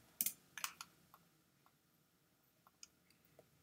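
Soft, quiet keystrokes on a computer keyboard in a quiet room: a few quick clicks, a pause, then scattered single taps.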